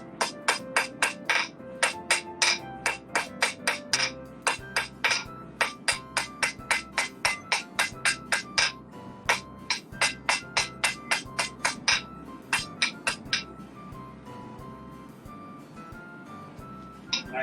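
A blacksmith hammers the end of a hot steel bar at the forge to upset it. Dozens of ringing hammer blows land close by in a quick, steady rhythm, then thin out toward the end.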